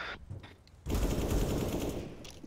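Rapid automatic gunfire in a shooting video game, a loud sustained burst of shots after a brief quieter stretch, no talking.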